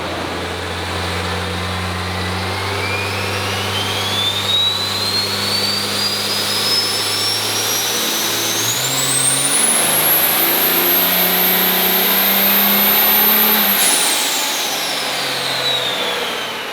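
A turbocharged engine on a dyno run with boost raised to the top of the wastegate, roaring loud and close as it climbs steadily in pitch, a turbo whine rising to a high scream before easing off.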